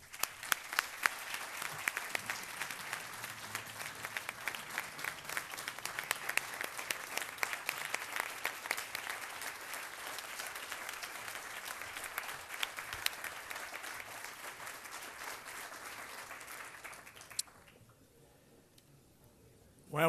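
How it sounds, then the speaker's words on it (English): An audience at a community colleges board meeting gives sustained applause, a fairly faint, even clatter of many hands that stops abruptly near the end, leaving quiet room tone. "We applaud you."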